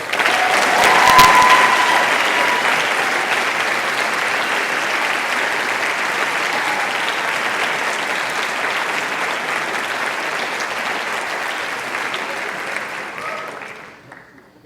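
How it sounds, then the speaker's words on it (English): A high school spring orchestra concert audience claps steadily for about fourteen seconds: dense, loud, even applause filling the hall, swelling slightly at the start and tapering off at the end. "can we have a round of applause for our"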